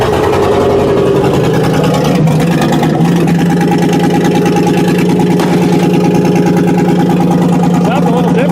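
A rough-running LS V8 car engine idles loudly and close by with a steady, uneven throb, seemingly not firing on all eight cylinders, on a high-mileage engine with a troublesome wiring harness.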